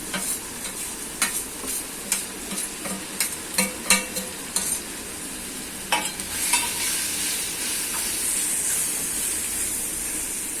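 Spices sizzle and fry in a pan for methi pithale while a spoon stirs and scrapes in a steady series of close, rhythmic strokes, giving way to a continuous hiss.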